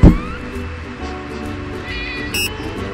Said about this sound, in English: Gary do be sounding a little bit like a cat in that scene